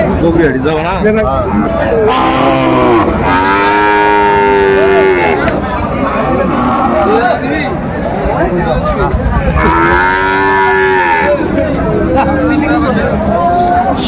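A Sahiwal bull lows twice at a cattle farm in Kurigram, each moo long, loud and near, rising over constant crowd chatter and people talking during a sale.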